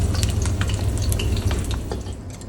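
Pork belly deep-frying in hot oil, a dense, loud, continuous crackling sizzle with scattered spits and pops, heard close with no voices.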